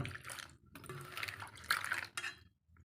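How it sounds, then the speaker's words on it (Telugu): Torn ajwain leaves being washed by hand in a bowl of water before making pakoda: splashy sloshing and rinsing in short uneven bursts, close and fairly quiet, with no voices. "ఈ వామాకులని నీళ్ళల్లో వేసి శుభ్రంగా కడగండి"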